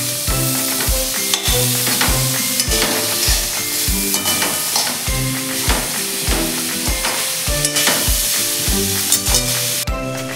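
Ridge gourd pieces are stirred into frying masala, a loud steady sizzle broken by frequent rhythmic scrapes and knocks of the spatula against the pan throughout.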